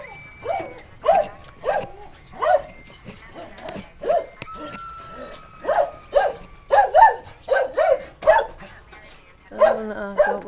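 A dog barks repeatedly in short bursts, fairly close, with brief pauses between barks and some faint voices in the background.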